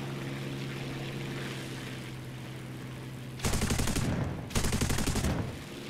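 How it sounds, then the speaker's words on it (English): Aircraft machine guns fire at a ground vehicle target in the War Thunder video game, two loud sustained bursts of rapid gunfire about a second apart, following a steady engine drone. "Let's see what these machine guns sound like."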